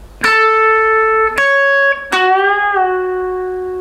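An electric guitar plays a short, sustained phrase, the last note bent upward and held with slight wavering, loud and close, no voices.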